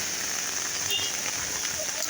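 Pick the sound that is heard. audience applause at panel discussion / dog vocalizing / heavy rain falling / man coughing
heavy rain falling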